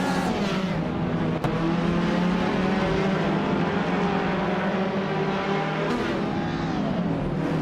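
Continuous loud roar of racing cars at speed, with a 1960 Alfa Romeo Giulietta Spider on track among the pack, engines droning steadily with no break and no talking.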